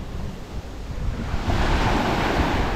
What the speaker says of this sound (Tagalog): Malakas ang dagat namin ngayon.